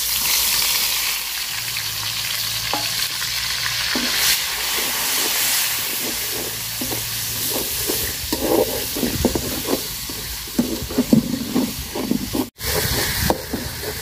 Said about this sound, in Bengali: তো মশলাটা আমি সুন্দর করে ভাজিয়ে নিচ্ছি।